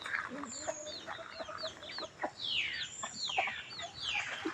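Chickens cluck and squawk at a temple in Lampang on a morning, several birds calling close by in busy overlapping bursts and rising cries, with other farm animals around.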